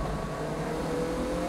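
A race car accelerates hard along a circuit during a 2008 tire test, a fairly faint, brief engine roar rising in pitch with no voices over it.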